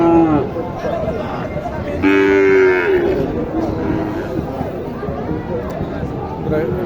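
Cattle moo repeatedly at a busy rural livestock market, long low calls rising over crowd chatter and nearby voices.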